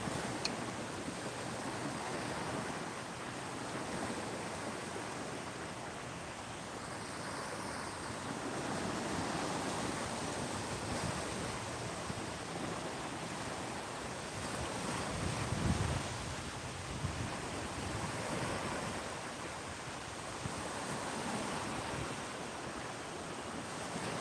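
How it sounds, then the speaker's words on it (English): Ocean surf on a beach at Clearwater, Florida, a faint steady wash of waves mixed with wind rush and mic buffeting, swelling gently in slow surges, with no speech. "I'm just listening to the waves."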